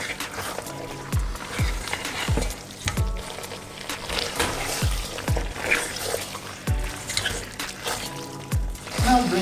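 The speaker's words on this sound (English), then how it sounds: "Stir properly, mix together." Wet, squelchy stirring of meat with soft thumps and sloshing in a pot, for water spinach soup, repeating in an uneven rhythm close by.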